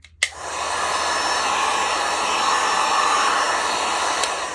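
A hair dryer heats a planner cover to smooth out imperfections, switching on with a click into a loud, steady close-up whooshing blow that runs continuously to the end.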